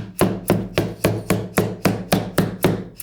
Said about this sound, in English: It's just a dead blow hammer,